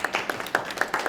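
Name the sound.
applause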